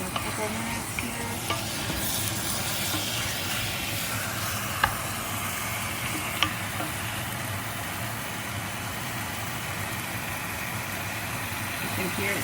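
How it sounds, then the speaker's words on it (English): Pieces of chicken sizzle and fry in a hot pan for a Vietnamese stir fry (ga kho). The crackling hiss is steady and close, with a few sharp pops and light stirring along the way. "You can hear it sizzling away."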